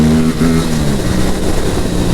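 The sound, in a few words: Aprilia RS457 motorcycle accelerating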